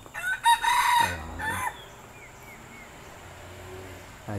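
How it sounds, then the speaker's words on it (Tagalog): A rooster crows once in a park setting at the Singapore Botanic Gardens, a loud drawn-out call early on followed by a shorter tail, then quieter ambient birdsong and background noise. "Ayun, manok."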